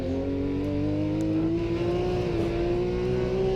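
Porsche flat-six engine held high around 9,000 RPM and bouncing off the rev limiter, a loud, steady high-pitched wail that holds close and continuous, with a slight waver, for about three and a half seconds.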